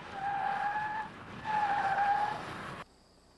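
Tires squeal loudly on a Mazda MX-6 with its tail end hanging out at the handling limit in a speed test. Two sustained screeches with a brief dip between them end abruptly.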